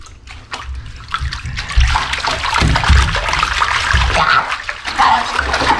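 Running water splashes and gurgles steadily into a bathtub being filled for a bubble bath, a continuous close rush with small sloshes and thumps, no talking.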